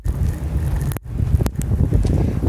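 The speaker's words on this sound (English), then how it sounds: "because the wind is bad" Strong wind gusts of about 38 mph at a building corner in Antarctica roar steadily into the microphone, buffeting and rumbling for the whole stretch, with brief sharp drop-outs between gusts.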